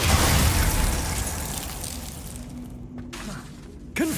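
A Glacius freezing spell in Hogwarts Legacy bursts out with a loud crackling, icy blast that decays into a hissing shimmer, followed by a few faint chimes and a sharp closing crack.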